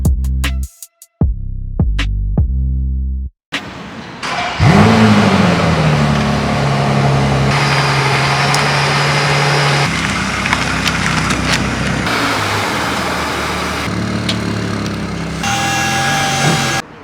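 A brand-new V12 car engine fires up with a sharp rising rev, then settles into a strong, steady idle and drive, loud and close, after a few brief tonal beeps at the start.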